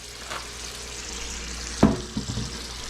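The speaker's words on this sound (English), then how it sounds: "we threw them in a hot cast iron skillet" Pork chops sizzle in a hot cast iron skillet, a steady broadband hiss of frying running throughout at moderate level, broken by a sharp clatter near the middle and a few softer knocks afterward, with no talking.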